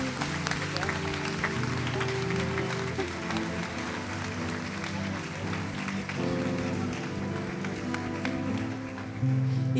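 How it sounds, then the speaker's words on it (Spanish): A church congregation applauds loudly and steadily for the full stretch, the clapping blended with sustained music and some voices. "Dale un fuerte aplauso, iglesia."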